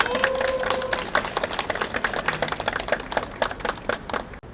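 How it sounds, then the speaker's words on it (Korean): An audience at a press conference on a support law for women with disabilities claps loudly and steadily, with a brief tone near the start and the applause tapering at the close. "힘찬 박수로 맞이해주시기 바랍니다"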